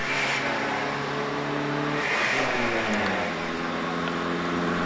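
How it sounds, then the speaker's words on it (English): A small, buzzy 750cc vintage race car engine revs and drones nearby at a hill climb, its pitch rising and falling briefly, with no voices. "750cc engine making all the right noises"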